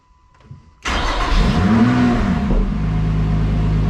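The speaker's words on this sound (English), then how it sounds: "Such a nice sound with the cold engine." A cold Lotus 3-Eleven sports car engine cranks and catches, then settles into a steady, loud idle with a brief rising rev, close by and without voices.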